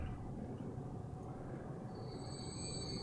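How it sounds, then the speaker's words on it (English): A train rolls into a station in Transport Fever with a steady rumble, and high wheel squeals build in the final second. "And now our second train is coming in."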